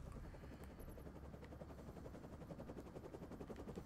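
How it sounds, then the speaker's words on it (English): A helicopter in the video game Defiance 2050 thrums steadily with a rapid rotor chop at low volume, mixed with faint game effects and no speech. "I love their helicopters."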